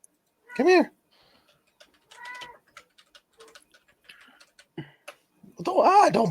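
A pet cat meows in short, sharp bursts: one loud, close cry early and a longer run near the end, with quiet gaps and soft voices, including someone mimicking meows.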